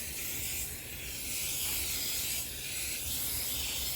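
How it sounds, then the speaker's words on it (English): A hose sprays water gently over newly planted broccoli seedlings and the surrounding soil of a sunny garden bed, a close, steady hiss that swells and eases slightly in waves, with no talking. "So we're just watering gently right around all of the plants and surrounding soil."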